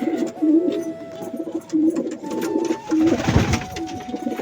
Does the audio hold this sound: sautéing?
no